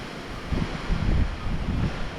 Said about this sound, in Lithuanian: bet vėjas stiprus niekur nenorėjo traukti